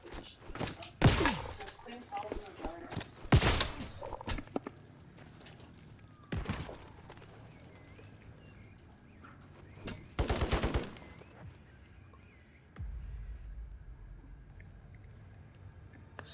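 Video game gunfire comes in several loud, separate bursts of rapid shots with quieter gaps between them, and voices talk in between the bursts.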